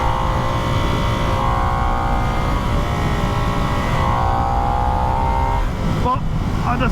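A 2022 Harley-Davidson Nightster runs with a loud, sustained engine roar, its pitch rising and falling through revs, with a brief sharp change near the end.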